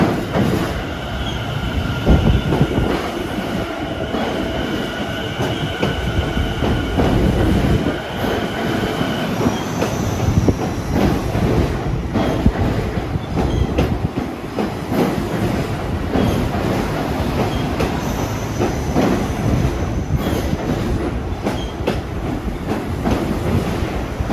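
Train 757 bound for Hempstead pulls into a station, its loud rumbling cars rolling past with rhythmic wheel clatter and high squealing brakes and wheels that fade partway through, with no talking.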